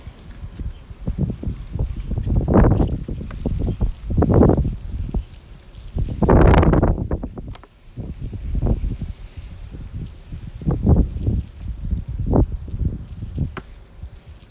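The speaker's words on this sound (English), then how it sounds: "Some muddy water's coming out." Muddy water drains from a freshly watered, newly repotted Fire and Ice hibiscus pot in repeated splashing, dripping pulses, close and fairly loud, rising and falling over several seconds.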